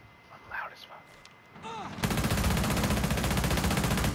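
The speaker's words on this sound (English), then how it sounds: "Wow, this gunfire is so loud" Automatic gunfire erupts in the Rainbow Six video game, a loud, rapid and steady burst of shots that starts abruptly halfway through and continues to the end, following brief quiet talk and game sounds.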